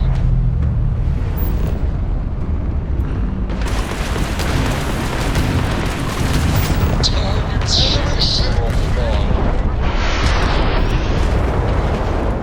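Spaceship weapons fire and explosions in Starfield video game combat: dense, loud, continuous rumbling blasts and bursting impacts layered with crackling high-pitched zaps, close and overpowering throughout.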